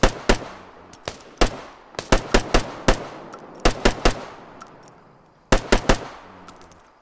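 Gunfire rings out in the military video game Arma: sharp, loud bursts of rapid shots in clustered volleys, separated by brief pauses, with no talking.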